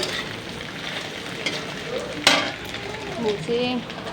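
Paneer sizzles and fries in a hot pan, a crackling hiss under a faint home-kitchen background, with a sharp clatter midway and some stirring noises toward the end.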